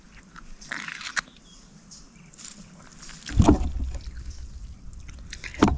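A blade cuts open palm fruit (nungu) outdoors, with a few sharp chopping strikes and a heavier crunching hit midway, spaced between quieter rustling handling sounds.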